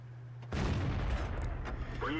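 A tank cannon in a tank video game fires one sudden heavy boom, and its rumbling roar carries on to the end. A voice is heard briefly near the close.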